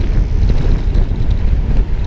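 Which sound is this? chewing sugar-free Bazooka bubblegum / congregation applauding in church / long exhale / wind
wind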